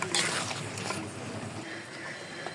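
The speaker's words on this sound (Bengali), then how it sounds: "এখন আমি পরিমাণ মতো পানি দিয়ে দেবো।" Water is poured into a cooking pot of beef and lentil curry, a brief, soft, steady splashing rush heard up close.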